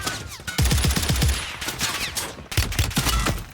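Rapid bursts of automatic gunfire in the online shooter Call of Duty Warzone, several volleys of loud sharp shots crackling close by with a brief pause midway before another burst.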